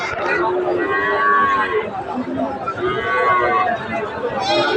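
Cattle and young bull calves, including Shahiwal and other farm breeds, at a rural livestock market, with occasional moos under steady crowd chatter and nearby talking throughout.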